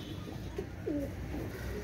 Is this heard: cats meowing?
no